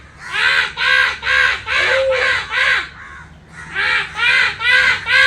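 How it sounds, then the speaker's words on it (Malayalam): A flock of crows gathering and cawing in response to a man's calls, with loud, close, harsh caws repeating in quick bursts, a brief pause midway, then more rapid cawing. "കാക്കകൾ എത്തണേട്ടാ"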